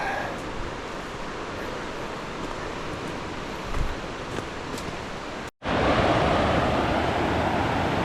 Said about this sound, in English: The river's still running pretty good, both from the rains we had the last week or two, and glacier melt.